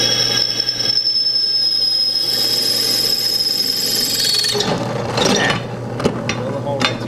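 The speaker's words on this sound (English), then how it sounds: "Drill a hole right through that spring steel." A drill press bores into old spring steel with a high steady whine, then breaks into harsher scraping and rasping bursts near the end.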